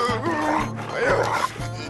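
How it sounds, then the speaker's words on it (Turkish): A dog barks repeatedly in a rural Turkish setting, with fairly close, loud barks mixed with some yipping against a busy background. "Canım neye havlayacak? Köpek işte."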